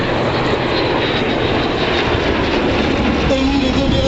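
Military jet patrol flying over at the NATO Tiger Meet in Cambrai, a loud, continuous roaring rush of jet engines filling the whole moment.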